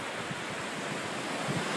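Surf washing steadily onto an oil-fouled beach at Pensacola, the water churning and fizzing; a continuous close wash of breaking waves with wind buffeting the microphone, no voices.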